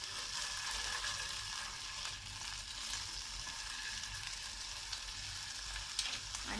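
Chicken fries in hot oil in a pan, a dense, steady sizzle running close and unbroken throughout, with no voices over it.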